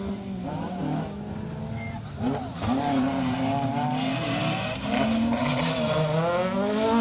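Rally car racing on a stage of the Rali Menai Stages, its engine revving hard and rising through gears, tyres scrabbling, loud and close with a steady roaring drone.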